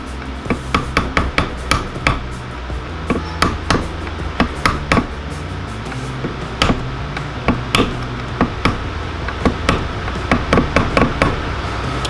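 A flathead screwdriver taps a crankshaft key into place on a Predator 420cc High Torque engine, giving a steady run of about two dozen sharp, close metallic knocks in small bursts.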